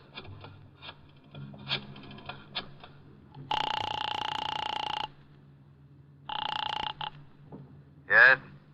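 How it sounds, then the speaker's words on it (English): A telephone in an old radio drama rings after a number is dialed. Faint clicks of dialing come first, then two loud ringing bursts, then a brief buzzing tone. "I dialed the Kelsey residence."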